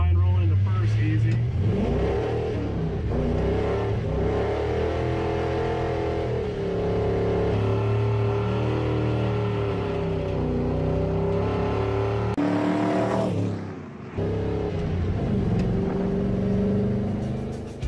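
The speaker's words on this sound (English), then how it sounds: "why don't you ever do a pull in the truck? I guess we'll do one today. Try and roll into first easy." A truck engine revs hard through a first-gear acceleration pull after distributor advance curve tuning, a steady loud mid-pitched drone climbing in pitch, with a brief dip near the end as it shifts or lifts.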